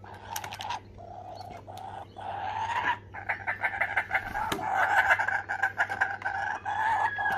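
A rooster crows and clucks close by, repeated calls rising and falling over a few seconds with sharp vocal bursts, loud and alone without talk.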